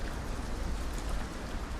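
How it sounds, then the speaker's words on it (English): Rain in the survival game Ylands, a steady, close hiss of falling drops spread evenly across the short stretch with no voices. "And now it's raining."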